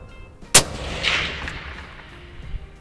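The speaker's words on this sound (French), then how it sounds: "On a des tirs de confirmation." A Remington 700 rifle fires a single sharp, loud shot at steel gongs on an outdoor range, followed by a faint distant ring of the struck gong and fading echo.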